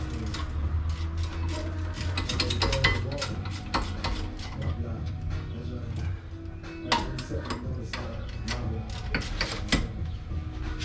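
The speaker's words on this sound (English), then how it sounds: "Now you just tighten up your caliper bolts after going and sliding on your rotor and caliper." Caliper bolts being tightened on a Nissan 300ZX (Z32) brake assembly: a steady run of rapid metallic clicks and ratcheting ticks over a low background hum, close and fairly loud throughout.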